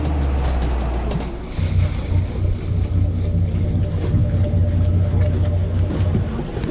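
A fishing boat out on the ocean, its engine droning loudly and steadily beneath rushing water and wind noise, with the engine tone strengthening after the first moment and holding to the end.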